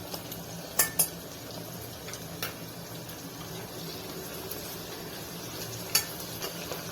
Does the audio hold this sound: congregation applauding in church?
no